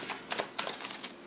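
Tarot cards are drawn and laid out, three or four quick papery slaps and shuffles close by, soft and crisp with no talking over them.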